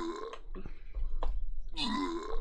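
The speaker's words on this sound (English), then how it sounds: "I think that burp was an in-game sound effect, in fact" A burp sound effect from the video game Watch Dogs Legion, a loud, drawn-out belch with a croaky, grunting texture, rising and breaking over a couple of seconds.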